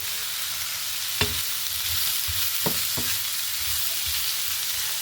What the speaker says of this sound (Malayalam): ഇതൊന്ന് വഴറ്റി റെഡിയാക്കി എടുക്കാം